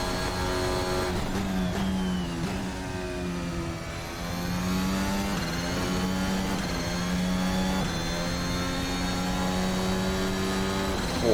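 Formula Alpha 2022 race car in a racing sim, engine held at full throttle through a fast right-hander; a loud, continuous high-pitched engine wail whose note climbs and dips with gear changes, alone with no talk.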